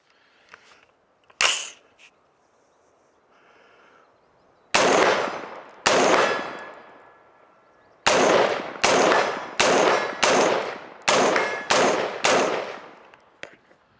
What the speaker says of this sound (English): let her rip some rounds from the bench